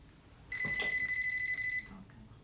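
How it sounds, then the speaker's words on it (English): A single electronic alarm beeps in a steady, high continuous tone for just over a second in a ceramics studio, fairly faint against quiet room noise. "There is my alarm."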